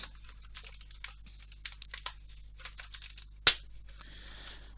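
Quiet, quick clicky keystrokes on an EasySMX mechanical keyboard with blue switches, in short irregular bursts, broken once by a single sharp loud knock and some faint rustling afterward.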